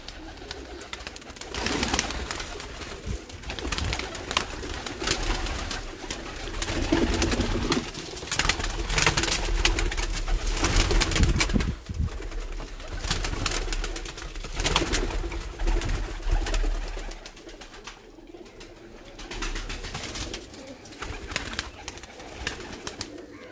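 Breeder pigeons in a Sialkot loft give low, continuous cooing among dense rustling and fluttering, a busy close-up flock sound that carries steadily with brief quieter gaps.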